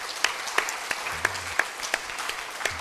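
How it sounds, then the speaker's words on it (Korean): A church congregation claps in encouragement during a sermon, a fairly soft, steady patter of hands with a few sharper claps standing out, heard at a moderate distance. "우리 장로님들 100명씩 책임지신다고 하시니까 박수로 좀 격려하십시오"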